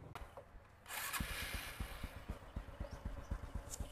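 Motorcycle engine idling after a top-end repair, ticking over in a quick, even clatter of pulses after a short rev, moderately close in a quiet workshop at night.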